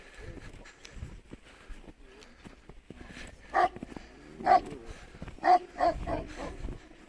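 Several sharp barks from dogs in a canyon ring out in short bursts against quiet outdoor background noise, with faint movement sounds between them.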